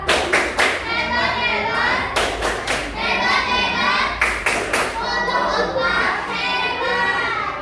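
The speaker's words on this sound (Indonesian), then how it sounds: "Kita dulu tepuk hebat untuk kelompok 4" Children in a classroom coding and AI lesson perform the 'tepuk hebat' clap chant for a student group, with bursts of loud patterned hand claps between their chanted voices, repeated several times.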